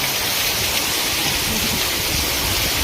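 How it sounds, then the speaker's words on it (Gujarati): Heavy monsoon rain pours down steadily in Palitana, a dense, loud, unbroken hiss of water drumming on surfaces throughout, with no voices over it. "તો પાણી હજી ધબધબાટી બોલાવે છે ભાઈ વરસાદ."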